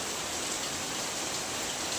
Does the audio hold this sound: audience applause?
no